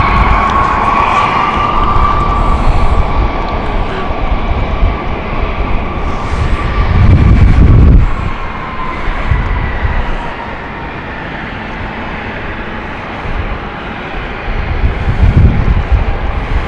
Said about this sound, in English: Gulfstream is moving